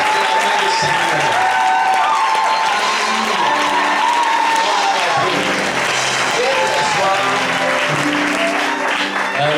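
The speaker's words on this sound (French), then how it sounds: "Est-ce qu'on peut acclamer le Seigneur?" Congregation at a church seminar applauding and cheering for the Lord, a dense, sustained wash of clapping and voices that fills the room at steady loudness, with music and talk mixed underneath.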